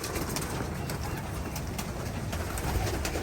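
Racing pigeons coo softly and repeatedly over a steady, noisy background hum, close by, with no voices.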